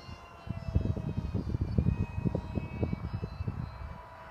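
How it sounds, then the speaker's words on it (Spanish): A jet being launched, its engine roaring: a rough, pulsing engine roar rises abruptly after a brief quiet start and holds steady and fairly close, with no talking. "Eso es tirar un jet."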